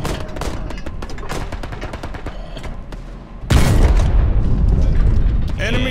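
A Sherman tank hit and destroyed in the Hell Let Loose World War II game: rumbling battle noise with gunfire, then a sudden loud, deep blast that booms and lingers.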